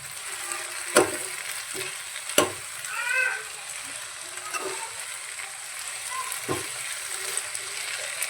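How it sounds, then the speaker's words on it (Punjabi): Chopped bathua greens stirred in a hot pan, a steady soft sizzle with a few sharp knocks and scrapes from the spoon, and brief faint voice-like sounds in the background. "ਹੁਣ ਆਪਾਂ ਇਹ ਚੰਗੀ ਤਰ੍ਹਾਂ ਮਿਕਸ ਕਰ ਲਾਂਗੇ ਜੀ"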